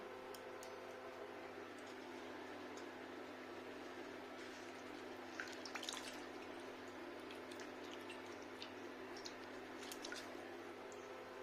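Water being wrung by hand from freshly picked mint leaves and stems: faint, sparse squelches and a few soft drips over a steady low background hum.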